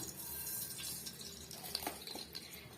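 Steady crackling and spluttering of half a teaspoon of mustard seeds popping in hot oil for mutton kulambu, with scattered sharper pops near the end and no talking.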